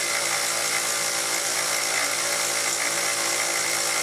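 A Taig mill spinning at 3400 RPM while machining small steel T-nuts gives off a constant high-pitched whine and hiss, steady and close, with no talking.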